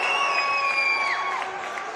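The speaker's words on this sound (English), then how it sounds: "Got a nice crowd." A crowd in a high school basketball arena cheering and murmuring, a steady broad roar with a whistle-like tone gliding over it.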